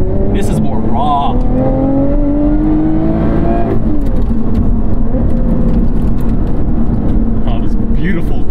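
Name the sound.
mid-engine sports car engine downshifting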